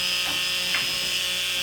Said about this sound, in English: So, I test everything with the Dremel tool,